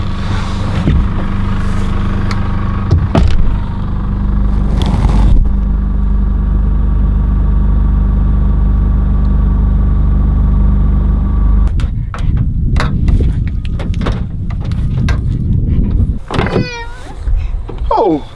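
Steady low car engine and road rumble from inside a moving vehicle, a continuous drone with a few knocks and clunks, shifting to rougher, busier road noise toward the end.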